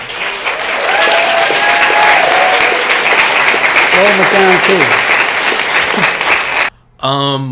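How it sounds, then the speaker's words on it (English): A large crowd applauding loudly at a political speech, sustained dense clapping with voices and cheers mixed in, then a brief pause before someone speaks at the end. "why are people clapping is my question"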